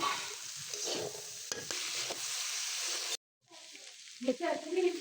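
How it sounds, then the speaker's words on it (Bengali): Diced potato and papaya fry in a hot pan with a steady, broad sizzle and occasional stirring scrapes, cutting out briefly before the sizzle returns louder, with spatula knocks near the end. "আলু আর পেঁপো আমি মিশে ভাজির মতন কেটে নিয়েছি, এটা আমি ভাজবো"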